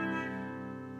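A clean electric guitar with no effects plays a single sustained chord that rings out evenly and fades slightly, close and fairly loud with no talking.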